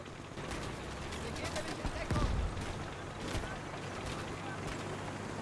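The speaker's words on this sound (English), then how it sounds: "But it has a machine gun, and it's going to open up." A tank's machine gun opens up in Gates of Hell, a distant, steady rattle of rapid fire inside a noisy battle, with one heavier thump partway through.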